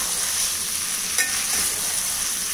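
Chicken stew masala sizzles in a pan, a steady broadband frying hiss with a brief stir-like scrape partway through, close and even, no talk.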